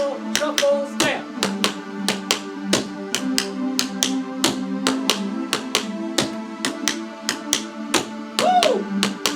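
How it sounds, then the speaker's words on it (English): Tap shoes on a hard floor beat out beginner shuffles and stamps in a steady, quick rhythm of sharp, close metallic taps, with a music backing track running underneath. "Now, shuffle, shuffle, stamp."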